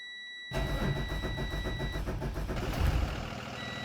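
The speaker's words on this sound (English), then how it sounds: "There's your Cummins powering to life." A Cummins diesel engine on a 2022 Thomas Saf-T-Liner C2 school bus in the Rigs of Rods game cranks and catches, settling into a loud, rough, rhythmic idle with a steady clatter after a brief electronic tone.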